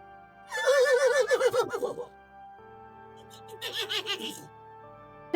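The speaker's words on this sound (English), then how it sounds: "A horse says, neigh." A horse neighs twice: a long, loud, quavering whinny, then after a short pause a second, softer one.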